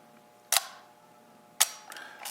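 A Nikon FE film SLR shutter set to 1 second fires twice, each a crisp close mechanical click, spaced about a second apart in a quiet room.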